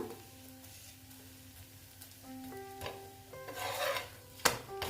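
Radish-stuffed paratha frying in a pan with little oil, a soft steady sizzle with scraping and rubbing sounds from a spatula, growing slightly louder toward the end with a sharp clatter.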